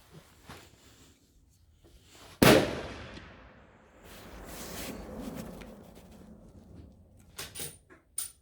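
A single 6.5 PRC rifle shot cracks out sharply and loudly, its echo rolling away over a couple of seconds, followed by quieter handling clicks and rustles.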